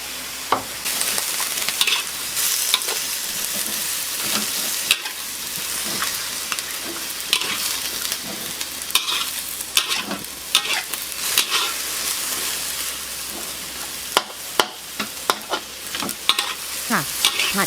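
Vegetables stir-fry in a hot pan with keto oyster sauce and keto soy sauce, giving a steady, loud sizzle broken by frequent scraping and clinking of the spatula against the pan.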